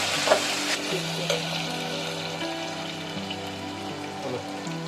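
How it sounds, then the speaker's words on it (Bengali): Tomato, onion, garlic and ginger fry together in a pot for a mutton curry, giving a steady close sizzle with occasional stirring scrapes throughout, no voices. "এবারে টমেটো পেঁয়াজ রসুন আদা সবগুলোকে ভেজে নেবো"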